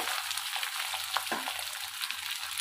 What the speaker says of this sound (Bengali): দিয়ে ভালো করে আমি এবারে মিক্স করে নেব জিরের সঙ্গে